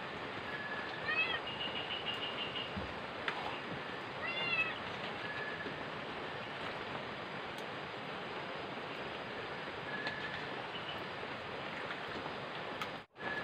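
A cat meows a few times, faint and high, over a constant loud hiss of outdoor background noise in a rural spot, the cries spaced out and brief.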